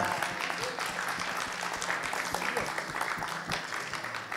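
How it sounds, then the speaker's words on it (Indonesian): Audience members at a talk applaud two guests being invited up; quiet, continuous clapping with distinct individual claps lasting about four seconds, with faint voices in the background. "kasih tepuk tangan buat mereka"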